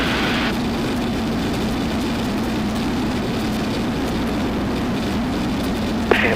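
A Zenith light aircraft engine drones steadily and close in flight, a continuous low hum with a short click near the end.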